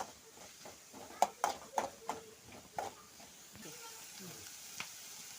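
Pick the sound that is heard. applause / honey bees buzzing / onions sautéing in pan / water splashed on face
onions sautéing in pan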